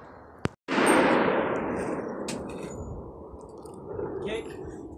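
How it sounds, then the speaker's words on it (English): A Citadel LevTac lever-action rifle fires once, sharp and close, followed by a long reverberating boom that fades slowly over several seconds outdoors, with a faint voice afterward. "Her turn to shoot the Citadel levtac."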